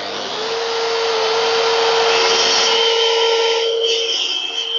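Plunge track saw cutting across wooden planks for a plank-effect vanity stool, a loud, steady whine that builds, holds and shifts tone as the blade works through the wood.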